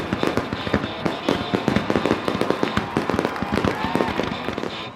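A dense barrage of fireworks from a large Canadian display cracks and booms across the night sky. The bursts come rapidly and overlap in a loud, continuous crackle.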